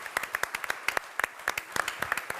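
Sparse, uneven clapping from a small audience at a talk on sustainable local food business, individual sharp claps close by and fairly quiet.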